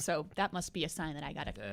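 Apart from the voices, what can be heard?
No everyday noises stand out.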